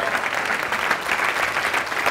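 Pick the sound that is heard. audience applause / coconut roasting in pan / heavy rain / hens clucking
audience applause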